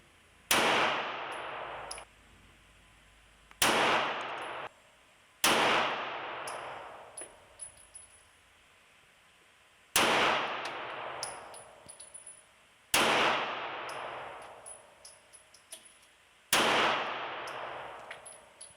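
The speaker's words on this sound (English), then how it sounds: "So we'll crank a few rounds off here and see where we're at." Six sharp pistol shots from a Smith & Wesson CSX fired at a range, spaced a couple of seconds apart, each a loud crack with a short ringing decay and no voices between.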